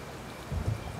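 Rain falls in the video game Kingdom New Lands as a soft, steady hiss with a brief low rumble, faint and heard alone.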